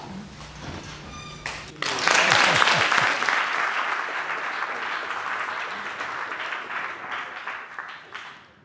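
An audience bursts into sustained applause welcoming speaker Bob Bond at an MIT event, loud and dense at first, then gradually thinning and fading away.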